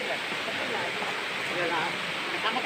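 River flowing at Daranak Falls in Tanay, Rizal, a steady broad rushing wash of water filling the scene, close and constant, with faint voices in the background.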